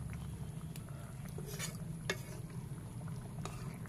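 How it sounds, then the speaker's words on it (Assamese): A spoon stirs a mustard, small fish and potato dish in a pot over low heat, giving soft scraping and a few light clinks against the pot above a steady low kitchen hum. "আৰু অকণমান লাহেকৈ লৰাই দিছোঁ।"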